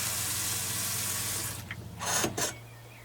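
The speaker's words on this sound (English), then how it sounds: "When you press this button, water comes out the centre, click the button and you get more like a shower spray" An outdoor shower head on a Sprinter self-build campervan sprays water, starting with a steady hiss, then a click and short bursts of spray, heard alone.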